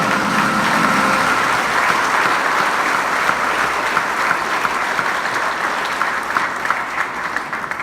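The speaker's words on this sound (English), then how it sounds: "A round of applause, everyone." A large crowd applauds at a sports awards ceremony, sustained and loud, an even roar of clapping that continues unbroken from start to finish.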